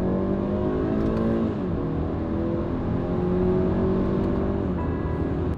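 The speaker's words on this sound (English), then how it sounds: "So how does the new BMW 330i feels to drive?" A BMW 330i (G20) sedan engine hums steadily from inside the cabin in comfort mode, pitch rising and easing as it accelerates and shifts, with a continuous road and wind rumble underneath.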